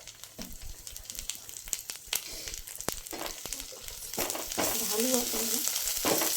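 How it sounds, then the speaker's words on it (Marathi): Masala gravy with red chili powder and turmeric frying in a pan: soft crackling sizzle with scattered pops and spoon scrapes, rising to a fuller, louder hiss toward the end. "आता ग्रेव्ही भाजून झाली आहे आपली मस्त"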